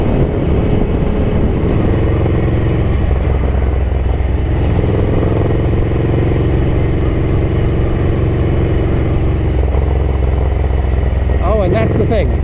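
Ducati 900SS bevel-drive motorcycle engine running hot during carburetor jetting and air-fuel tests, a loud, steady close-up drone with a brief rise near the end.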